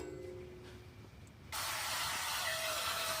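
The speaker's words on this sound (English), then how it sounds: "spray the pan with a little bit of oil" Cooking oil spray hitting a pan inside a camper van during a vegan meal at a campsite in Gila National Forest, New Mexico; a loud steady hiss starts abruptly midway and continues to the end.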